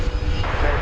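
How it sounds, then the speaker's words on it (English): Gulfstream G280 business jet at DFW Airport, a steady broad engine roar from a distance, continuous and moderately loud with no voices. "What's that there? It's a Gulfstream G280."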